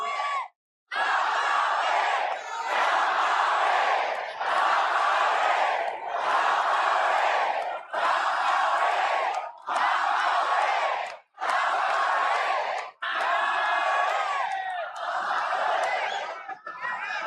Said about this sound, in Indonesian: Saya ingin tepuk tangan sekali lagi untuk Bu Roidah.